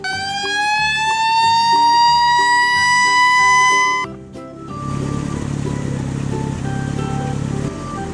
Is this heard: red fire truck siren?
yes